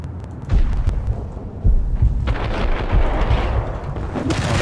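Machine gun fire in Max Payne rattles in heavy, booming bursts, loud and close, with dense rapid shots over a rumbling background.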